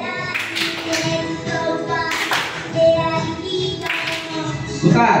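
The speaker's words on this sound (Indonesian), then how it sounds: "Klop, tepuk." Hands clap sharply several times amid a group exercise session, the bursts spaced irregularly with voices and movement between them.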